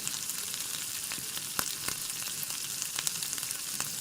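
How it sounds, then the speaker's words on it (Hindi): Egg-dipped kebabs fry in hot oil with a steady, close sizzle and a few sharper pops and crackles scattered through, no voices present. "अंडे वाले मिक्सचर में हमने इसको कबाब को डिप करना है और साथ ही जो ऑयल गर्म हो चुका है उसमें इसको हल्का सा हमने फ्राई कर लेना है"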